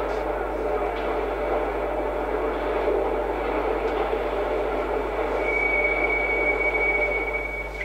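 Steady rumbling of a Channel Tunnel construction train hauling chalk wagons between the boring machine and main shaft, 1989: continuous low hum and rattling wagons, a faint high whine rising near the end, constant and fairly close.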